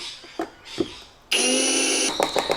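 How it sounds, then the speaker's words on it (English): A short, steady electric drill whine from a 3mm bit boring a hole runs for about a second, preceded by a few light taps and clicks, close up. "Using a 3mm drill, make sure again there's nothing underneath there that you're going to drill into"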